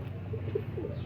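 Racing pigeons coo softly in a short burst of low, rounded murmurs over a steady background rumble, with no voices.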